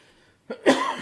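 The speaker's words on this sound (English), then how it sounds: "I still have this cough generated." One sharp, close cough that bursts out after a brief near-silence, loud and raspy, trailing off quickly.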